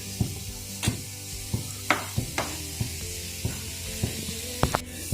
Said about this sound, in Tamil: இப்போ நம்ம 1/2 தேங்காய் வறுக்கிறோம் லைட்டாக